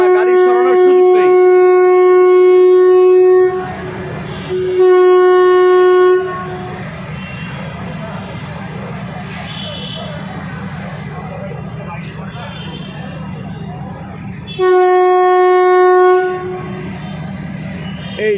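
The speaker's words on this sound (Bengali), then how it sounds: "রেলগাড়ির হর্ন" A train horn blares at a level crossing in a congested city, sounding in long loud blasts with a short break and another blast later, over the low rumble of the rolling train.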